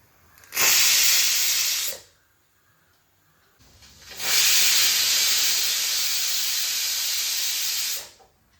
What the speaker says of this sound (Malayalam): ഞാനൊരു രണ്ട് വിസിൽ മൂന്ന് വിസിൽ കേൾപ്പിക്കും